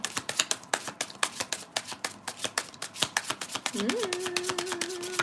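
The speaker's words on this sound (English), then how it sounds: "I'm hearing one more shuffle." A deck of oracle cards is shuffled with quick, crisp riffling snaps in a steady rapid rhythm, close and clear; a brief tonal hum enters near the end.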